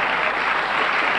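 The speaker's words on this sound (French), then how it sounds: "On peut les applaudir." Studio audience applause on a French TV game show, a steady dense wash of clapping that fills the whole short moment without any talk.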